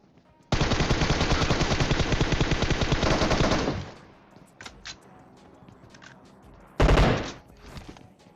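Shooter video game gunfire: a loud, sustained automatic burst lasting about three seconds, a few scattered faint shots, then another short, sharp burst near the end.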